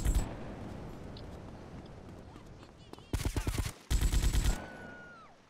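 Gunfire in GTA Liberty City Stories: two loud, close bursts of rapid shots, each lasting under a second, break out of a low background with a short gap between them.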